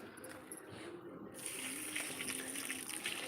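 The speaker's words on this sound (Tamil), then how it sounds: "எல்லா தண்ணியும் இங்கே செடிக்கு தான் நாங்கள் ஊற்றுறோம்" Water poured onto garden plants, a steady splashing gush that grows louder partway through and continues to the end, with a voice speaking faintly underneath.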